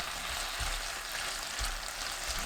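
Shishito peppers stir-fry in a pan over medium-low heat with soup soy sauce, anchovy fish sauce and fine salt. A close, steady sizzle runs throughout, with a few soft low stirring bumps.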